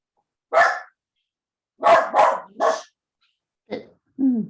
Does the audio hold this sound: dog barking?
yes